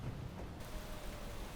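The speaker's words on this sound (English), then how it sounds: "The rain adds a certain level of gloom to the night." Steady rain falls at night in the video game Space Engineers, a continuous soft wash of drops with no voices over it.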